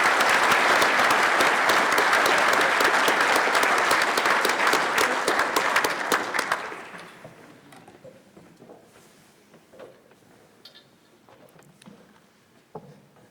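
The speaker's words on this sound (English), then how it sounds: "How about one more quick round of applause for that?" Audience applause at a centennial gala for a scouting council, a dense, loud round of clapping for about six seconds that then fades into scattered claps and quiet room noise.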